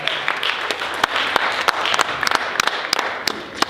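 Audience applause at a high school Black History Month assembly, a dense steady patter of many hands clapping throughout with a few sharp louder claps standing out, fairly close and without talk.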